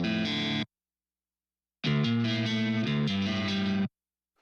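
Dry, distorted electric guitar plays a short chord, pauses, then a chugging riff, with no reverb tail as each phrase cuts off abruptly.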